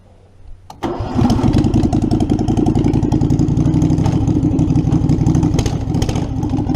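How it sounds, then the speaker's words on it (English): A Predator 670 engine, just back from a carburetor repair, cranks and catches after a brief quiet moment, then settles into a loud, close, steady rumbling run with a fast uneven beat, alone without talk. "this is the run after the carb job I just did"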